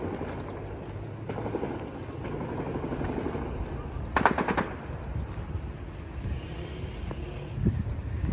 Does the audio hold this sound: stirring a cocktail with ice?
no